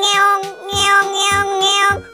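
A cat meows three times in quick succession, each call clear, close and tonal with a rising then falling pitch.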